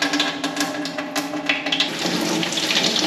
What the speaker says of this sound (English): The water's still running.